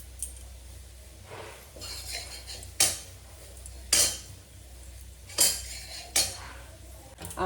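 Metal kadai pans being washed together in a kitchen sink, with sharp scraping clinks and clatters recurring every second or so over a steady low hum, close and fairly loud.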